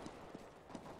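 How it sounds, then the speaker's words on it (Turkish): Footsteps in the video game Counter-Strike: Global Offensive thud faintly in a steady pattern of three soft, evenly spaced steps against a constant background hiss. "Ayak sesi var."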